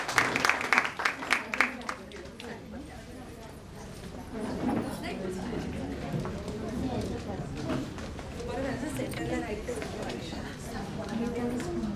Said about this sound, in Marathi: पुन्हा एकदा जोरदार टाळ्या होऊन जाऊया